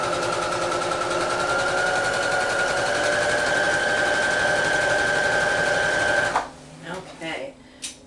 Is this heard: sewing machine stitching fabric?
yes